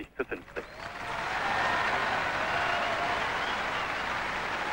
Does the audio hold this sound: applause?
yes